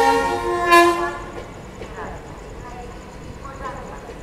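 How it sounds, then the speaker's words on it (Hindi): A train hauled by a WAG-9 electric locomotive arrives at Ghaziabad railway station, sounding a loud, sustained horn blast at the start, followed by rumbling wheels and fainter station noise. "यहाँ देखिए गाज़ियाबाद रेलवे स्टेशन पर कोई तो ट्रेन यहाँ आ रही है वैग 9 लोकोमोटिव के साथ।"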